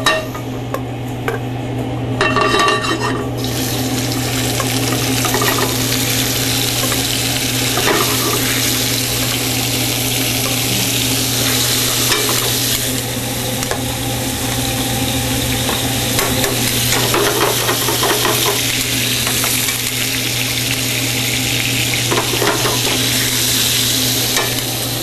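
Meat sears in a hot skillet with a loud, continuous sizzle close by, overlaid by scraping and stirring from kitchen tools and a low steady hum underneath.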